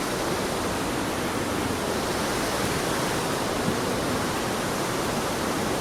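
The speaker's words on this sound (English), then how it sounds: "It gets better out here. Class 2 rapids, maybe even 3s" River rapids, class 2 to 3 whitewater in a canyon, roar as a steady, dense broadband wash with no break or pulse, close and fairly loud, with no voices over it.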